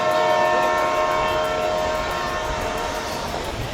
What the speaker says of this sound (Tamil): ட்ரெயின் வரப்போகுதுங்க.